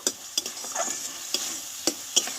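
A spoon stirs flat beans (sim) with chopped coriander in a pan, giving sharp scraping clacks at uneven intervals over a soft, low sizzle, close by and without talk.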